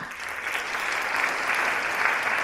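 Steady applause from an audience, many hands clapping continuously at a moderate level without letting up.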